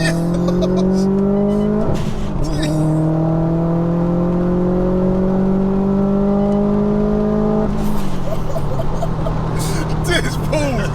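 A tuned 488 bhp Subaru WRX STI pulls hard through a rolling launch from third gear. The engine note climbs loudly and steadily, drops sharply at a shift, then climbs again, with brief voices and cabin clatter around it.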